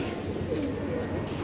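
Salaty pigeons in a fancier's loft give a soft, brief coo over a dense, murmuring background of other birds.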